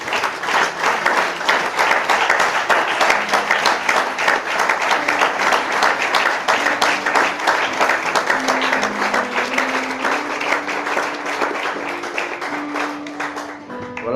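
A church congregation applauds and cheers for the Lord, with loud, sustained rapid clapping that continues evenly for many seconds, a few voices rising through it, before it begins to thin out at the end.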